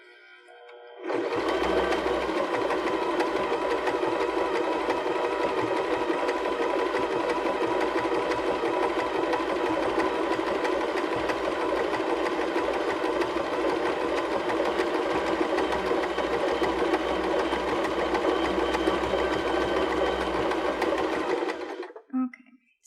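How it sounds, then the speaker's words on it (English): Baby Lock BL9 sewing machine running a stretch stitch on stretchy fabric, a steady continuous mechanical whir at a slower pace that holds unbroken for about twenty seconds, then stops. "these stitches will stitch slower because we're on the stretchy fabric"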